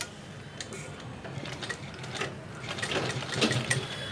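A sewing machine stitches a blouse, a steady rapid mechanical ticking that grows slightly louder and busier toward the end, close by and with no talking.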